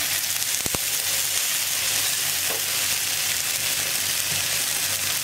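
Taro root (arbi) pakoras fry in hot oil with a steady, dense sizzle and hiss that runs unbroken throughout, plus a brief sharp clink near the start; no one speaks.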